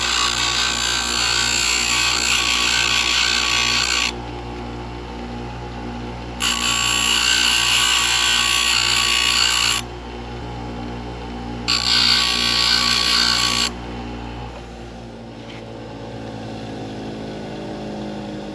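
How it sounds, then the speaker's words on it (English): An angle grinder grinds down a metal weld on a custom lock in three loud, sustained bursts separated by pauses, with a motor hum underneath that winds down at the end. "We're going to grind that down slightly so I can get it turned over."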